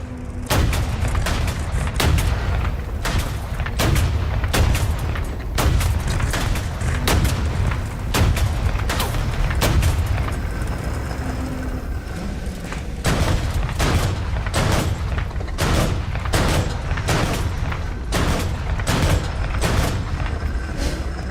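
A wheeled vehicle's gun fires over and over in War Thunder, giving steady, heavy booming shots that stay dense and loud amid continuous battle noise.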